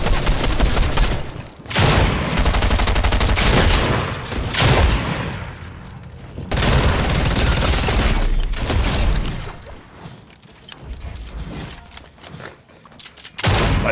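Video game gunfire rattles in dense, loud bursts of rapid shots with booming hits, broken by short pauses between volleys.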